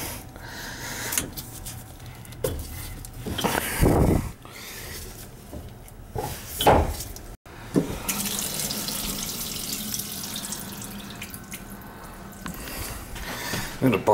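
A kitchen faucet being turned back on during a faucet replacement and dishwasher reinstall runs water into the sink, close and steady after some intermittent handling noises and a brief gurgle earlier.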